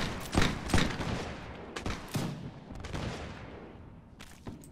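Musket volleys ring out in the Napoleonic-era Mount & Blade L'aigle mod: several sharp, overlapping cracks of massed gunfire, loud and close at first, then scattered, fainter shots trailing away.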